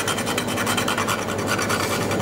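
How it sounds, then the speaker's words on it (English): A whole nutmeg is rubbed against a small nutmeg grater for a spiced baked fruit pudding, giving a steady run of close, dry rasping strokes that repeat quickly with no pauses and no talk. "then some freshly grated nutmeg. I've got my own little nutmeg grater"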